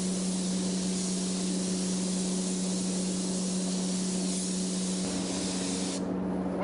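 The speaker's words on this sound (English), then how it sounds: "You don't want to shoot directly parallel to it because you'll get a direct spray and it's hard to get a fade." Steady close airbrush hiss as paint is sprayed in flame designs on a Hummer, continuous and even throughout, with a slight change near the end.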